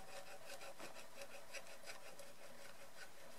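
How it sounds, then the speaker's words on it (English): A knife saws and scrapes through a thin tin can while a hobo stove is being made, a steady close rasping with small repeated strokes and a faint metallic ring. "you're going to slice down with your knife. Slice down through the can"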